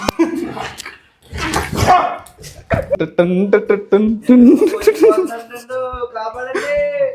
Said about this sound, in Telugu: నా దగ్గర ఉన్న డాగ్స్ అన్నింటికి స్నానం చేయించడం ఒక ఎత్తు అయితే, మా శామ్కి స్నానం చేయించడం